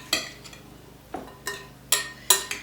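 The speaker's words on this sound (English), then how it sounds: "We're going to stir it up" A spoon scrapes and knocks around a bowl of cucumber salsa in four or five sharp, evenly spaced strokes, close and fairly loud, with no talking.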